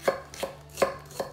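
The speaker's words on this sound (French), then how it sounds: "on hache très fin notre oignon" An onion being finely chopped with a knife on a board, giving four crisp, evenly spaced knocks close up with no talk.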